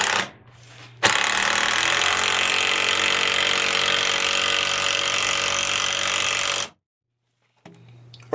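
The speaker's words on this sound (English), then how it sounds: "I'm gonna go ahead and put my screw in." A power drill drives a screw into a wall while tile backer and drywall go up in a bathroom remodel: one loud, steady whirring run of about five seconds, starting and stopping abruptly, with quiet moments before and after.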